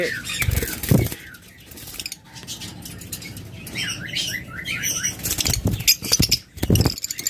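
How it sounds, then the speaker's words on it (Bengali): A pair of violet opaline pet birds chirp and flap their wings in short fluttering bursts, close by and fairly quiet, with scattered tweets between the flurries. "চমৎকার আরেক জোড়া পাখি, একদম টপ কোয়ালিটির, হাই কোয়ালিটির পাখি"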